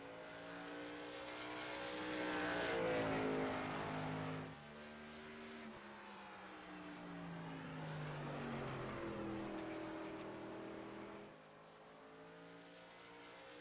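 A racing truck engine in iRacing revs and shifts through gears, pitch rising and falling in long sweeps as it accelerates and backs off, loud and steady with no voices over it.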